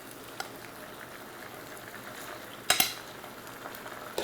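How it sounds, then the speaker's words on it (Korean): Boiled pasta noodles stir-fried in a pan over medium heat for a cod roe pasta, a steady faint sizzle with a sharp clatter of utensil against pan near the end. "이 상태에서는 불을 중불로 올리셔서 빠르게 볶아주면 됩니다."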